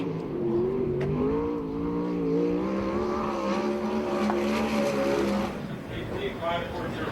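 The number 37 sprint car, a USAC/CRA machine, runs a qualifying lap at Perris with a loud, rising engine howl. Its pitch climbs and wavers as the car passes, then drops away near the end, under an announcer's voice.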